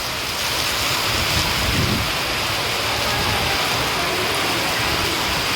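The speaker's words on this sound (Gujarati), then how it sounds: "એટલો ફૂલ વરસાદ પડે છે, પવન છે આમાં" Heavy rain pours steadily during a small windstorm in a village, a dense continuous hiss with gusting wind rumbling underneath throughout.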